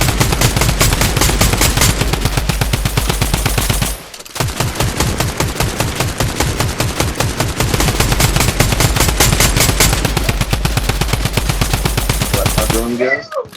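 Drum gun firing in Fortnite, long loud rapid bursts of automatic fire with a brief pause near four seconds, then continuing steadily to the end.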